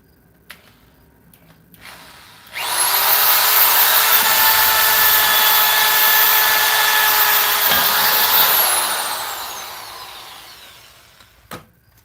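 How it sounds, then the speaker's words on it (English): A power drill spins up sharply, holds a loud, steady high whine for about six seconds while boring a hole in a clamped piece, then winds down slowly, with a few small knocks before and after. "Now let's drill the hole in for our"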